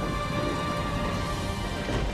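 Heavy rain pours steadily, a dense, unbroken roar that fills the whole clip, with low thunder rumbling beneath it and no voices.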